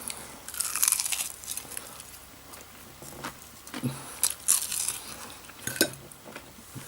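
Crispy duck skin crunched between the teeth in several sharp, close bites, with chewing between them, alone and loud against a quiet room.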